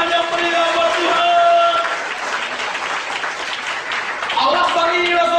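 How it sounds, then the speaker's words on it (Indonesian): Church congregation applauding during a sermon, a loud sustained burst of clapping and crowd noise rising under amplified music tones and voices. "Berikan tepuk tangan yang meriah buat Tuhan."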